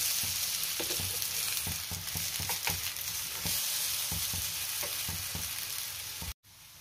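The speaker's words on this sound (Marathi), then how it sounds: "आणि दुसऱ्या साइडने सुद्धा आपल्याला भाजून घ्यायचंय।" A potato and gram flour pancake (dhirde) roasts on a hot pan, giving a steady close sizzle broken by a rapid series of soft tapping knocks, then a sudden brief dropout near the end.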